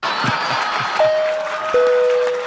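Crowd applause from a live comedy audience plays as a replayed soundbite, a steady wash of clapping throughout with a couple of sustained electronic tones cutting in partway.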